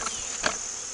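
Honeybees from a rogue hive buzz as they are shaken out, a steady close insect drone with a couple of brief louder swells.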